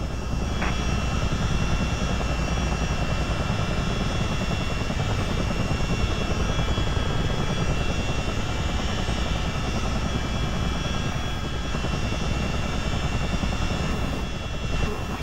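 A US Army Chinook helicopter taxis in Microsoft Flight Simulator, its twin-rotor engine drone loud, steady and unbroken throughout, with a constant turbine whine and rotor thrum and no talking.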